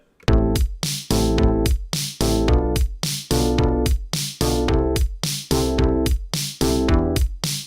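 Chords are strummed in a steady, rhythmic pattern of short bursts with brief gaps, moving from E down to D, loud and close with no voices.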